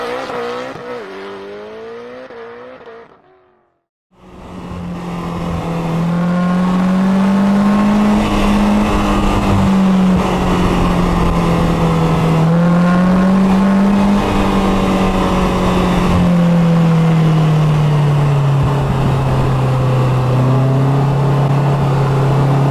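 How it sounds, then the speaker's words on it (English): A Polaris Slingshot is driven hard through tight curves in the Malibu hills, its engine droning loud and close as revs rise and fall steadily, with tire squeal running through the sustained roar; a brief quiet moment precedes the full run. "show you what spirited driving the Slingshot is like"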